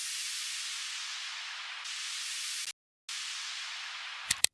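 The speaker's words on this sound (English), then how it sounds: "and some white noise." Steady broadband hiss of white noise in an Afro House track, bright and airy, holding for a few seconds, briefly cutting out, then returning before a couple of sharp clicks at the end.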